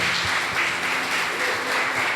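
Congregation applauding at a church congress service, a steady, dense wash of many hands clapping together throughout, with no talking over it.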